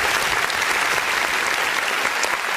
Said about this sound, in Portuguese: as palmas exaltam o nome do Senhor